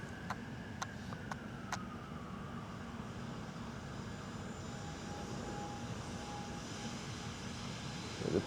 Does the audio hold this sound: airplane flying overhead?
yes